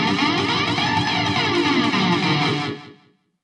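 A keyboard plays a song intro through a compressor and flanger, a dense sweeping, swirling chord sound held loud and steady for nearly three seconds before cutting off into silence.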